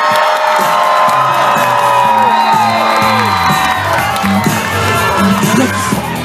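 A crowd at an anime convention cosplay contest cheers, whoops and shouts loudly for a contestant, a dense sustained roar with high-pitched yells and some clapping mixed in.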